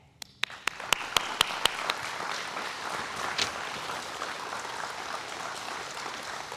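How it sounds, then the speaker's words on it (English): A crowd breaks into applause at a high school graduation ceremony, a few distinct claps at first swelling into a dense, sustained wash of clapping heard from a distance. "will you please join me in a well-deserved round of applause"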